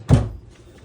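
A small drawer beneath the stove in a 2021 Hemisphere RV kitchen shuts with one close, solid thunk that fades quickly into quiet.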